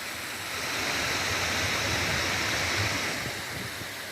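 A small waterfall beside a river pours in a steady, full rushing wash, close and fairly loud, with a slight swell midway and no voices over it.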